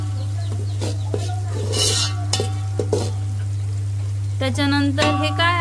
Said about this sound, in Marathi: हे असं कांदा ढवळून घ्यायचा परतून